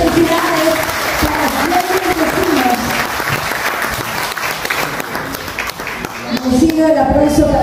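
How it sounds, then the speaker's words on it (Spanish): Crowd at a school music project event in Santa Rosa de Copán applauding a young singer and instrumentalist, loud, dense clapping running the whole time with voices and cheers mixed in and talk near the end. "el aplauso para Jamie"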